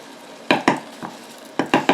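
A wooden spoon stirs elderberries in a pot, making six close, hollow knocks and scrapes in two quick groups, loud and without talk.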